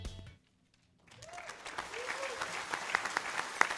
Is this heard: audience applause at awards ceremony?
yes